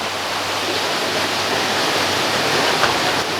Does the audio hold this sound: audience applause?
no